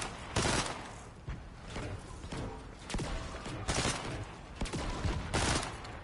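Repeated bursts of gunfire in the video game Fortnite, loud sharp volleys spaced irregularly across the stretch with short gaps between, close and dominant.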